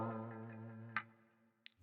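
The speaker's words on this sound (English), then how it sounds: "So I'm using here a wah chrome." Electric guitar run through a wah chrome effect on a Line 6 Pod Go, one sustained chord ringing and slowly fading, with a couple of brief pick or string clicks near the end, quiet and with no talking.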